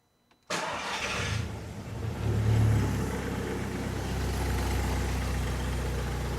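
A Volkswagen Golf GTI Mk5 engine with an all-wheel-drive, forged build cranks and catches after a moment of silence, revs up briefly, then settles into a steady, close idle, slightly noisy at the flywheel.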